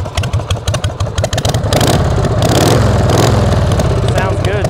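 A 1978 Harley-Davidson FXS motorcycle engine idles with a steady, loud rumble, first choppy and pulsing, then settling into an even throb.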